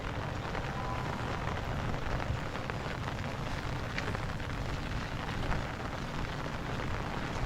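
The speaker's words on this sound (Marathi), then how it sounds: "खऱ्या अर्थाने पाऊस चालू झालेला आहे" The first monsoon rain falls on a village, a steady broadband patter and hiss of drops that holds even for several seconds with no voices.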